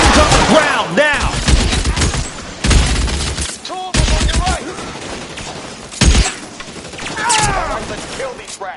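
Gunfire in the LA Noire video game: repeated loud bursts and single shots in a chaotic firefight, with sharp cracks separated by brief pauses, and shouting voices mixed in between the shots.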